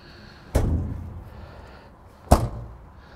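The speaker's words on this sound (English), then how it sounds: "you close those doors, they're not fighting you" Two solid baggage doors on a 2022 Renegade Valencia 38BB motorhome being shut, each a sharp close thump followed by a short rumbling decay, spaced about two seconds apart.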